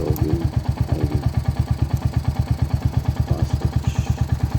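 A Royal Enfield Hunter motorcycle idles close by, its engine thumping out a steady, even pulse of rapid low beats with a faint mechanical clatter over it.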